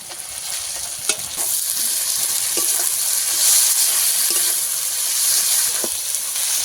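Chicken with ground turmeric and spices being stirred and fried in a pan, a steady bright sizzle throughout with occasional scraping knocks of the spoon, close and loud, no voices.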